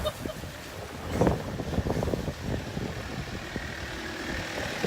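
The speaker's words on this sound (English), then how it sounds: "The motor's running!" A sailboat's motor runs under gusty wind and water noise, a low, uneven rumble that swells briefly before settling back, with no voices over it.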